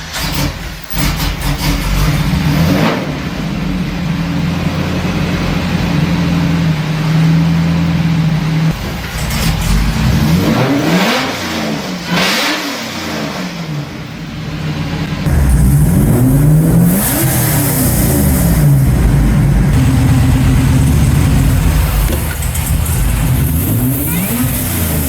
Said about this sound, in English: a supercharged 180-degree header V8